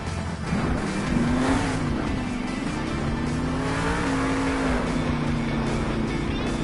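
The El Toro Loco monster truck, driven by a woman, roars through donuts in a Monster Jam arena show, its engine revving loud and sustained with shifting pitch over crowd and arena noise.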